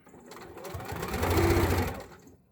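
A sewing machine top-stitches the back of a fabric wrestling mask, a close whirring motor with rapid needle clatter that speeds up, holds for about a second, then slows to a stop.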